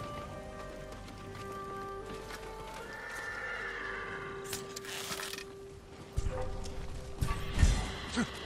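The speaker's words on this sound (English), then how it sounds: "Get to the horses." Samurai horses at the stables in Ghost of Tsushima: a horse neighs and hooves clip-clop among faint rain and ambient music, building to louder stamping and snorting near the end.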